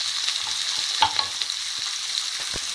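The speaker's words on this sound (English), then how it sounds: "let those onions cook through before we add some spice to this" Onions frying in a pan, a steady soft sizzle with a few faint stirring clicks and scrapes, close and continuous with no talking.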